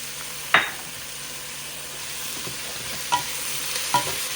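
Celery and onions with spices and salt sauté in a pot for a shrimp and crab chowder, a low steady sizzle broken by a few sharp spoon knocks and scrapes against the pan.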